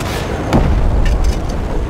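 Gunfire aimed at a surface-to-air missile battery in Just Cause 3: a loud booming shot rings out, followed by a rolling, rumbling low-end roar and a few fainter crackling pops.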